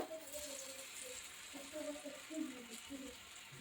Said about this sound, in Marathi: मध्यम गॅसवरच वांगे फ्राय करून घ्यायचे आहेत आणि डीप फ्राय करायचे नाही थोड्याशा तेलामध्येच ते तळून घ्यायचे आहेत